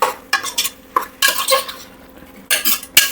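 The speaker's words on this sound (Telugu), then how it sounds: "ఇప్పుడు ఒక్కసారి బాగా కలిపేయండి" A metal spoon scrapes and clanks around a pressure cooker as chicken biryani with turmeric, coriander and mint is stirred, a series of irregular close scraping strokes with brief pauses between them.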